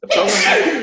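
A single sharp, close sneeze bursts out during a spoken presentation, with a brief voice around it.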